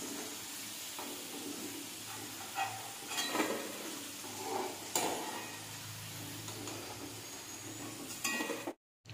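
Potato fries sizzle in hot oil during their second frying, a steady close hiss with scattered crackles and a few louder bursts that cut off abruptly at the end.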